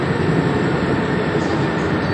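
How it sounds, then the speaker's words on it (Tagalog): An MRT train in Singapore passes by, heard from a tenth-floor home across the line as a loud continuous rumbling roar with faint wheel hiss, steady throughout. "ayan yung tren."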